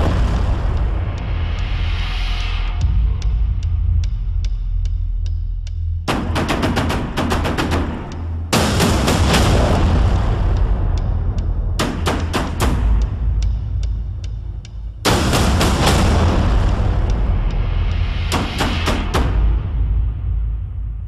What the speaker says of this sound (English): You want fireworks? Oh, we got fireworks for you right here on Sabercats Weekly.